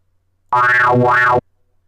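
A single synthesized wobble bass note made in FL Studio, loud and buzzy, pulsing through two slow wah-like sweeps before cutting off abruptly.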